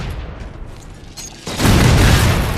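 A railgun shot fired in the video game Halo 4 cuts in suddenly as a loud, full booming blast that holds steady to the end, after a quieter stretch of game noise with no talking.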